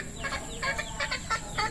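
Several chickens cluck in quick, overlapping bursts at a moderate distance, with a low steady hum underneath.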